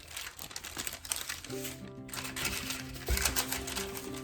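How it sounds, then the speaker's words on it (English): Wax paper crinkling and starting to tear while pumpkin dog treats are being made, a run of close, crackly rustles and rips with no voices. "see that wax paper? It's starting to tear on me"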